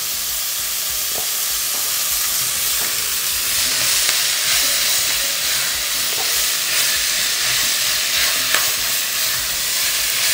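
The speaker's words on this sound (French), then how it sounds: "Une fois qu'on a fait revenir un petit peu ces légumes" Chopped vegetables sauté in a pan for osso buco, giving a steady loud sizzle and hiss throughout with a few faint clinks of stirring, and no talking.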